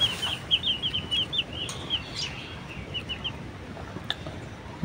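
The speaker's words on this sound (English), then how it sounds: "Beautiful color, color chicken." Colorful chickens cluck and chirp in a quick run of high, close calls, with some flapping or rustling and a steady background hiss.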